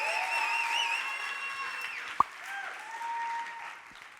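Audience applause and cheering at a LEAP Week event, a steady roomful of clapping with a few whoops, one sharp close knock partway through, then tapering off.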